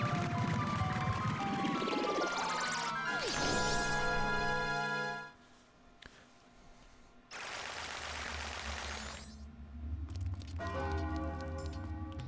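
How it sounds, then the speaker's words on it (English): A bell in the Zelda: Majora's Mask game rings out loudly with a long echoing resonant decay, followed by a short gap and further bright ringing tones and game effects. "Quite the echo on the bell there."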